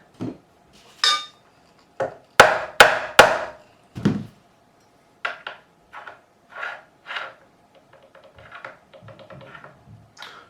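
A nylon-faced hammer taps the metal frets of a Yamaha BB614 active bass, giving a series of sharp, close knocks in irregular clusters. Louder strikes come early and softer taps follow.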